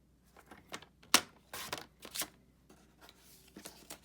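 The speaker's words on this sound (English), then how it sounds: "So I will just cut this while I have it out." Paper card stock being trimmed for card making, a sequence of close, short crisp cuts and paper rustles with one sharp snap near the start, no talking.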